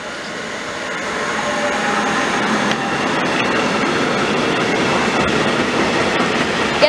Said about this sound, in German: aus Richtung Würzburg bzw. Bamberg-Schweinfurt kommt eine Baureihe 189 von Hör das Signal Berlin. In dieser speziellen Lackierung mit einem Kesselzug.